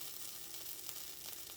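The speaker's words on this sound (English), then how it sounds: "You hear that sizzling?" A faint, steady sizzle of hair product hisses continuously, like something hot frying, with no voices.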